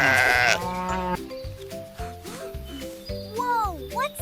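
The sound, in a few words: sheep bleating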